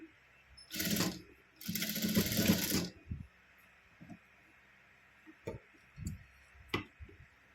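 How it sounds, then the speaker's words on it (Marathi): A sewing machine stitches fabric for a blouse tassel in two short whirring runs, the second longer, followed by scattered soft clicks and taps from handling the machine. "हे पहा पूर्ण आपण शिलाई मारून घ्यायची आहे"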